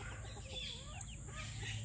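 A trio of silkie chickens in a cage gives soft, faint clucking that runs steadily throughout, set back at a distance with no talking.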